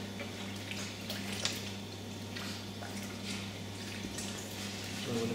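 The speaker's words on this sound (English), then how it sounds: "So I'm going to pour the water in again with the sourdough so that it'll release it from the bowl nice and easily." Water poured into a mixing bowl holding sourdough starter during bread making, a soft continuous splashing and trickling close by over a steady low hum, with a few faint squishy sloshes.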